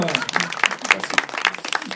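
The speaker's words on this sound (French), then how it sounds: "Allez, on l'applaudit." Applause from a small group in a French-speaking setting, a brief burst of quick, uneven clapping at moderate volume with voices mixed in.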